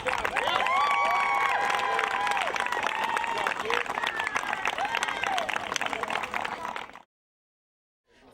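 Parents in a crowd at a youth baseball championship give a big round of applause mixed with cheers and whoops, loud and continuous for about seven seconds before it cuts to silence.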